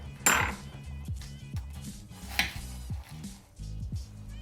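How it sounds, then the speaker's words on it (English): A bar spoon churning a mojito over ice in a glass, quick repeated clinks and scraping rattles of ice with a few louder knocks, close and busy throughout. "we're going to churn it or stir it a little bit"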